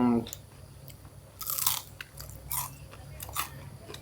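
Crunchy deep-fried banana blossom is bitten and chewed up close, giving several loud, crisp crunches spaced about a second apart, with someone talking faintly in the background.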